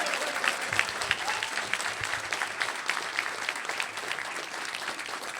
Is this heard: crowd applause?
yes